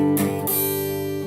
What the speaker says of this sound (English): You'll find that you start snagging strings and sound like this.